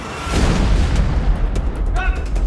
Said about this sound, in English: We blow things up. It's what we're known for.